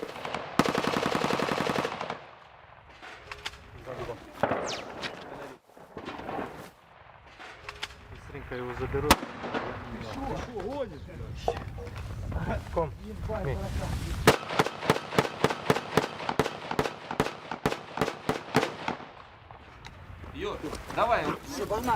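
Scattered gunshots and bursts of automatic fire crackle at a distance as soldiers fire back in the Ukraine conflict, mixed with shouting voices and movement, ending in a rapid string of shots.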